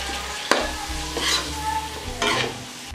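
A spoon stirs chopped mint and coriander leaves into an egg dum biryani mixture in a pot, with a soft scraping sizzle and a few distinct strokes, close and steady with no talking.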